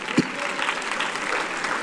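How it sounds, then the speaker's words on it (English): Church congregation claps during a sermon, a soft, brief patter of hands heard at a distance with a faint knock near the start. "Give the Lord a clap offering."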